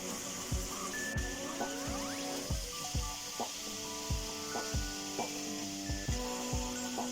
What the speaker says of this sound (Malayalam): വെറും നെയ്യിലാണ് ഞാനിത് ഷാലോ ഫ്രൈ ചെയ്യണം കേട്ടോ